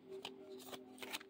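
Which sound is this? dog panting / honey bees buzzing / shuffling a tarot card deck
shuffling a tarot card deck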